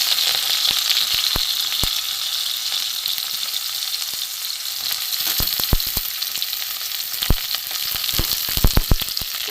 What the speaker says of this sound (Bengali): প্রথমে আমি উচ্ছেগুলো ভেজে নেব।